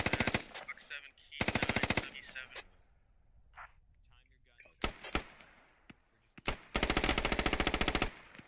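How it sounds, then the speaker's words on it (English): Gunfire in the video game Squad: bursts of automatic machine-gun fire and single sharp shots, loud and close, separated by quiet gaps with faint distant shots and brief voice. "Taking some fire from radio tower now."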